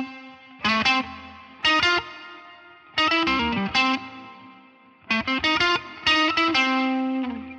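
Distorted electric guitar plays a lick in short repeated phrases, bursts of picked notes with brief gaps, carrying a layered effects tone with chorus and reverb, close and fairly loud with no voice.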